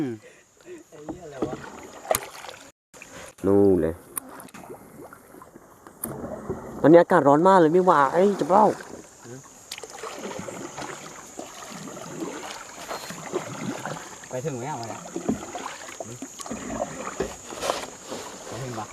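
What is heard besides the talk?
paddling a rowboat on water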